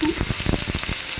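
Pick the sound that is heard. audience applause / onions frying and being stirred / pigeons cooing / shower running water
onions frying and being stirred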